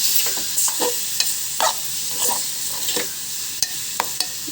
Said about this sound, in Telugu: కలిపేద్దాము